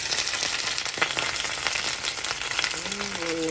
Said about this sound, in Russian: Сейчас картошка пожарится